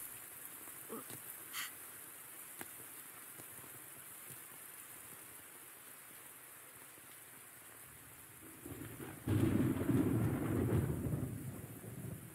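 Video game rain and thunder from Metal Gear Solid 3 on PS2: steady soft rainfall with a couple of faint early cracks, then a deep rolling thunder rumble swelling loudly near the end.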